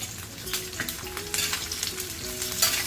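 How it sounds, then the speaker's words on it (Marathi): Green chillies frying in a couple of spoons of oil for kharda, a steady close sizzle with occasional stirring scrapes and crackles throughout, no voices. "छान परतून घेते छान भाजून घेते मिरच्या"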